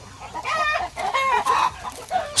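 A Brahma chicken clucks up close in several quick, bright calls, loud and clear with no one speaking.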